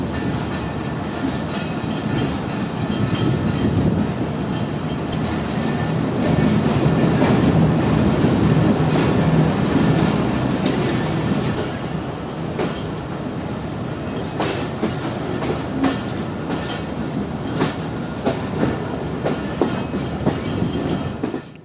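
The Business Express passenger train pulls away from the main platform of Multan Cantt station with a loud, steady rumble and rolling wheel clatter. Sharp clicks and clanks of the cars cross the rail joints as it departs, with no talking.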